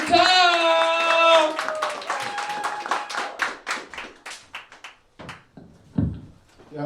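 At a comedy brunch, an audience claps for the host as he comes on. A host's amplified voice carries over the start, then scattered hand claps thin out into a few sharp single claps.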